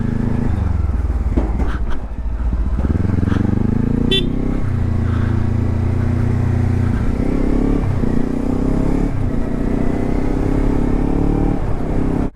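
A motorcycle rides along a mountain road near Batalik close to the LoC, its engine a steady loud drone throughout with shifting pitch as it changes speed, a brief high clatter or toot midway.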